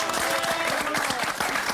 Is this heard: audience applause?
yes